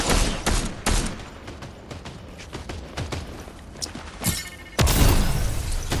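Scattered gunshots in a video game, a few sharp bangs and quick bursts spread over several seconds at moderate distance, the loudest hits arriving near the end.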